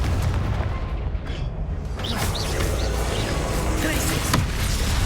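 Fire-spell blasts from Hogwarts Legacy gameplay, a string of booming explosions with whooshing bursts layered over a busy, continuous game soundscape, loud and close with no clear pauses.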